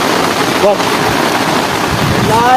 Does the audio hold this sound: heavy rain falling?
yes